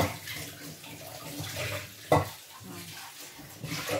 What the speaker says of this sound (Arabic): هنا دوقاتيك نغسل يدي تاعتي